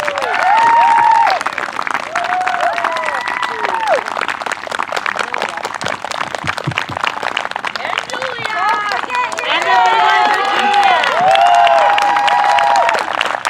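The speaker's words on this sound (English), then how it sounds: "Please give them a great big round of applause." Crowd at a 4-H achievement celebration applauding and cheering, continuous clapping under lively chatter and whoops, with shouting voices rising and falling throughout and loud, close, sustained energy.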